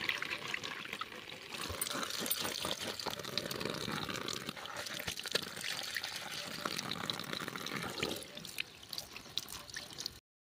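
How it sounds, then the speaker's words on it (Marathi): Running water splashes steadily as taro (colocasia) leaves are rinsed clean by hand, a continuous pouring and trickling sound close by that stops abruptly at the end. "तर ही आळूची पानं आपण स्वच्छ धुवून घेऊया।"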